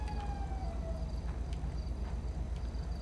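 In the game GTA V, a police siren sounds faintly and in the distance, a thin wavering tone over steady low engine rumble and a regular clopping tick, with no talking.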